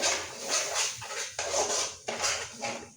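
Palak paneer being mixed in a pot, a spoon scraping and knocking against the metal in steady repeated strokes, close and fairly loud, with no talking.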